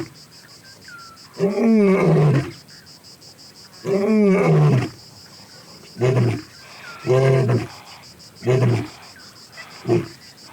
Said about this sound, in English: The big male's roar reaches the lioness as an invitation to dinner.